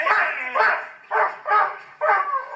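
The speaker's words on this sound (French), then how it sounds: "Le chien s'est détaché." A dog in a dramatized Tintin audiobook scene barks loudly and close in five rough, strained bursts at an uneven rhythm, each bark harsh and slightly yelping.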